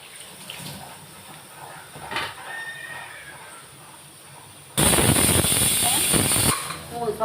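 A pressure cooker cooking tomato rice releases a loud, sharp burst of hissing steam from its whistle near the end, after quieter kitchen sounds with water running and a voice speaking.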